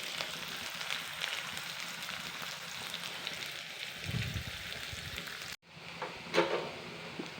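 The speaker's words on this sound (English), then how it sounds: "Saute it for 2-3 minutes so that the onion is cooked neatly." Onion and lady's finger sauté in a pan with a steady, soft sizzle and crackle, close and even. The sound cuts off abruptly near the end, then returns with a brief louder stir.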